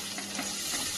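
Onion and tomato sautéing in a pan, a soft, steady sizzle with faint stirring, heard alone at low level.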